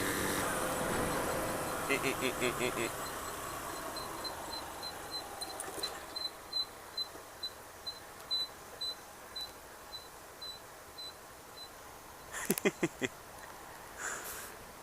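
A Yamaha YBR motorcycle wheel gives a steady, regular series of short, high squeaks or ticks while riding with the clutch in, set against continuous road and wind rumble, with a few louder clicks near the end.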